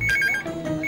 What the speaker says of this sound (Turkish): Ay telefon çalıyor.